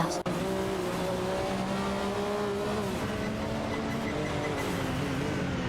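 Race cars in a video game, including a Mazda RX-7 IMSA GTO and a Porsche 961 LM, hold a loud, steady engine drone with shifting pitch for several seconds, alone without talk.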